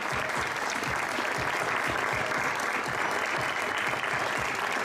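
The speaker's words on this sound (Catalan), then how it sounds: "Fort aplaudiment, per favor." A hall audience at a local award ceremony applauds with continuous, even clapping that holds steady, loud and dense, for several seconds.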